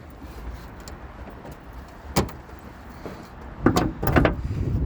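Metallic clunks and thuds as the hood of a 2023 Subaru Forester Wilderness is lifted and propped open, with a sharp knock partway through and a cluster of louder clanks near the end over a quiet background.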